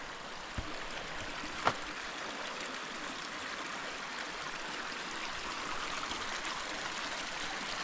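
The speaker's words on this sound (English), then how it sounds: "Coming up on another stream." A forest stream flows in a steady broadband rush throughout, moderately close, with a single brief knock partway through and no voices.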